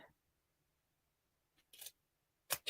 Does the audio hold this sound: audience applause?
no